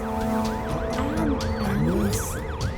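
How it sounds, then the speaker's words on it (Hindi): A loud ambulance siren wails in a fast, repeating up-and-down pattern, close by, with traffic noise underneath. "यहाँ पर एम्बुलेंस आ गई है।"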